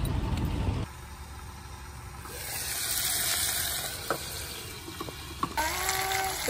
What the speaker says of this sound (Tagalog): Prito lang guys. Prito lang.